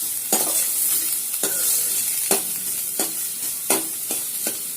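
Onion and green chilli sizzling in a pan of hot oil while drumstick soup is being made, a steady close fry broken by several sharp scraping strokes of a spoon stirring.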